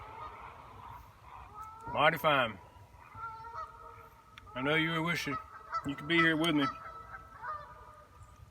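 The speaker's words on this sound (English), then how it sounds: "Canadian geese are coming in for the evening." Canada geese coming in for the evening honk loudly in three harsh bursts of overlapping calls, with someone speaking quietly between them.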